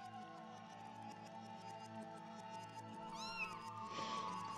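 A cat meows in a few rising, wavering calls amid a steady tonal background hum, close and moderately clear.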